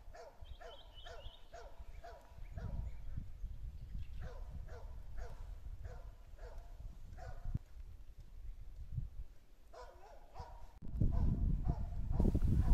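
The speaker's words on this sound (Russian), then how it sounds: "лают собаки." Several dogs bark in a rural Russian village, repeated rhythmic barks at moderate distance, some layered and overlapping, continuing across the whole stretch with outdoor ambience and a louder rustle near the end.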